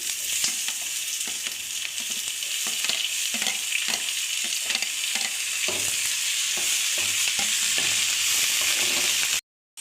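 Masala and tomatoes fry in a pan for bitter gourd fry, giving a loud continuous sizzle broken by regular scraping strokes of a spoon stirring, before cutting off abruptly at the end.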